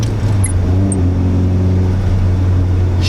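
A 1994 Nissan 180SX Sileighty with a slightly loose gearbox, heard from inside while driving: a loud, steady low engine drone with a faint rising tone partway through, continuous and without talk.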